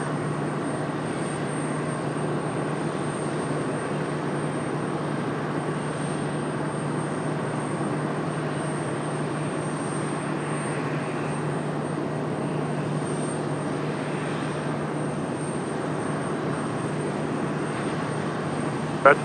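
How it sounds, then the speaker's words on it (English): Steady broadband roar of an Airbus A319 jet departing Raleigh-Durham International Airport, a continuous engine rumble with a low hum holding level throughout and no voices. "A319 back to Miami, Florida. Gonna be our next departure."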